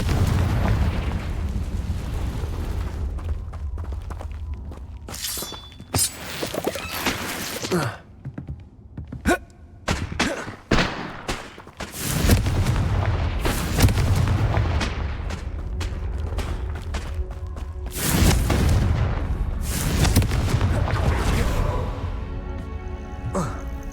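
Fiery Confringo spell blasts in Hogwarts Legacy, loud booming explosions bursting repeatedly amid combat clatter, with a voice shouting between the blasts.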